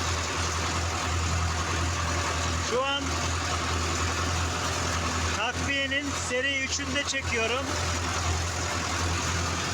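A Steyr 8073 tractor pulling a 15-tine tiller through hard soil drones steadily and loudly throughout, a constant low rumble while someone speaks over it.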